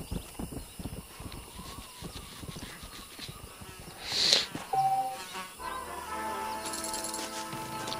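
Horse hooves clip-clop in the video game Red Dead Redemption: a steady, rhythmic clopping through the first few seconds, followed by a sudden burst and a layer of other game ambience.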